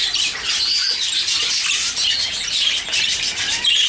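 Birds at backyard nest boxes chirp and tweet in quick, high, overlapping calls, close and continuous, with occasional squawks and no voices.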